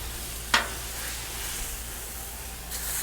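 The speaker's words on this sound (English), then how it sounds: "Look at the sizzle." Quiet, steady sizzling hiss of a tomahawk ribeye steak frying on a hot griddle, with one brief sharp click near the start.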